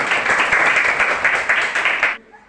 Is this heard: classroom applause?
yes